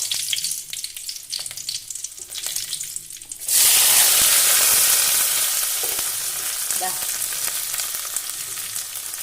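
Onion, garlic and dried chili dropped into hot oil for a Kerala green gram thoran, starting from quieter kitchen clatter and erupting into a loud, dense sizzle that slowly eases.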